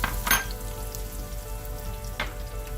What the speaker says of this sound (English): we're going to saute our onions down really well till it's nice and brown